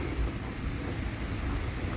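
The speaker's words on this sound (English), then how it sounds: "It's sprinkling right now" Light rain sprinkles down steadily outdoors during a stormy spell, a soft continuous patter with a low rumbling wash underneath and no voices.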